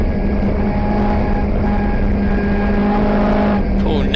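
Saloon race cars roar through the chicane at Thruxton circuit in a loud, sustained engine drone with a steady pitch. A commentator talks over it.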